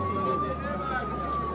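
A fire engine's wailing siren holds a steady, drawn-out tone at an accident rescue scene, fairly loud and continuous over a rumble of traffic and background noise.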